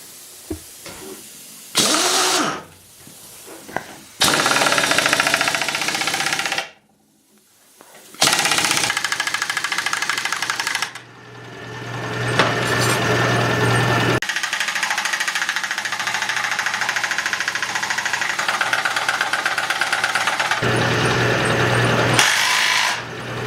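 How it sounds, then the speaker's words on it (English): An air compressor runs with a loud mechanical motor drone as it refills while an impact wrench job is under way, steady and close, with breaks and restarts and no voices. "Now that the compressor is filled back up"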